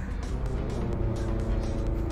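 A Chevrolet Impala driving off in a Roblox racing game set in a parking garage, its engine droning steadily and loudly with a continuous motor hum.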